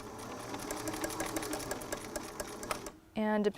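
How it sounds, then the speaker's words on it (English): A sewing machine stitches elastic onto a face mask made from a T-shirt, running with a steady, close mechanical whir before stopping abruptly. A brief voice is heard right at the end. "we're going to sew it like a sandwich"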